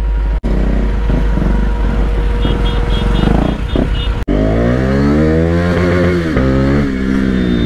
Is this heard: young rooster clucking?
no